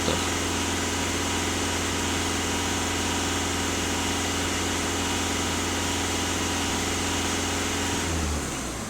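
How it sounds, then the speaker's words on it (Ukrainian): A VW Passat 1.6 TDI diesel engine held at full throttle during EGR calibration and diesel particulate filter regeneration: a loud, steady, close droning roar sustained throughout, dropping away as the revs fall at the very end. "даю газ в пол."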